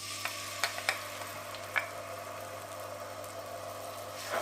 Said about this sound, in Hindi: ऑयल गर्म हो गया, अब अदरक लहसुन का पेस्ट ऐड करेंगे।